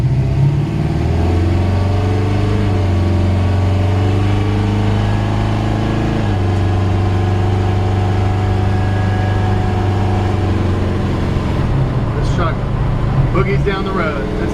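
A 1951 Chevrolet 3100 pickup truck with an automatic transmission rolls down the road, its engine giving a loud, steady, low-pitched drone that shifts pitch about halfway through, with road rumble underneath.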